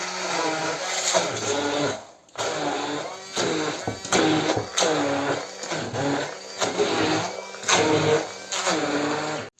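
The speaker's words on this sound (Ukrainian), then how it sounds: "і тепер це все збиваємо блендером" A blender whipping cottage cheese with sugar, loud whirring bursts that start and stop repeatedly, with brief pauses between pulses and no talking.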